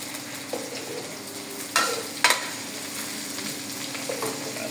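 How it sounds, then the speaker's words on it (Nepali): Boiled potatoes go into a hot frying pan for aloo dum, with a steady sizzle underneath and a couple of clunks and scrapes as they drop in and get stirred, close by with no talking. "यो फ्राई भयो, अब आलु हाल्नु।"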